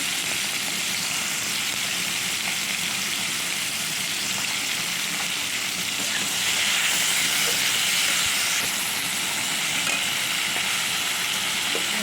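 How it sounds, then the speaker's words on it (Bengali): Potatoes fry in spiced oil, making a loud, continuous hissing sizzle that swells slightly midway and stays close and steady throughout, with no talking. "এবার আলুগুলো দিয়ে দেবো আলুগুলো নিয়ে দিয়ে একটু ভালো করে ভেজে নেব"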